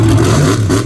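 Misfire monster truck at a Lebanon Valley monster truck event, its engine revving loud and close in one sustained, rough, throaty roar that barely wavers across the short burst.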